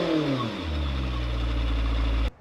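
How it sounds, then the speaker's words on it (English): A Lamborghini Temerario engine idles and then revs, the pitch sliding down before settling into a steady low drone that cuts off abruptly near the end, heard close with no talking. "let you guys hear the engine sound right now"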